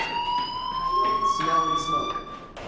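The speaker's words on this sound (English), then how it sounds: "do you hear that fire alarm? That means you should be outside." A school fire alarm rings in the video game Life Is Strange, a sustained electronic tone that holds steady throughout, moderately loud, alongside other faint game sounds.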